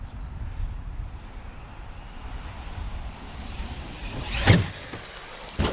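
An RC truck's electric motor whines and revs during a wheelie, a steady drone that surges into a sharp, loud burst near the end, with no speech.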